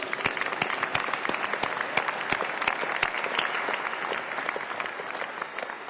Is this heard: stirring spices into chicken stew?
no